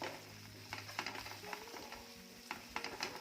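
A spoon stirring spice powders into okra bhaji in a pan, with soft irregular scrapes and light sizzling taps over a low background hum.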